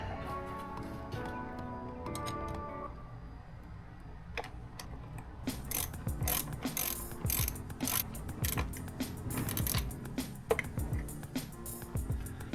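A part on a UTV fuse block being tightened down with a hand tool: a steady run of rapid ratcheting clicks and mechanical ticks, close and fairly loud, preceded by a low humming tone, with no talking.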